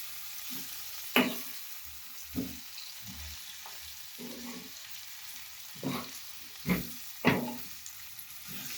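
Capsicum curry frying in a pan with a soft sizzle underneath as a spoon stirs it, making a few sharp scrapes and clinks against the metal.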